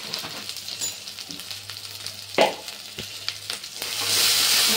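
Spices with red chili powder, ginger, garlic, onion, tomato, green chili and coconut fry in oil for Maharashtrian tarri poha, a soft crackling sizzle with a few stirring knocks, swelling louder near the end.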